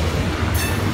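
Rail cars pass close by with a loud, continuous rumble and rattle of wheels on track for a brief moment, and no voices.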